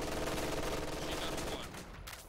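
An MG42 machine gun in a World War II video game fires a dense, continuous rattling burst, loud and close, which fades out near the end.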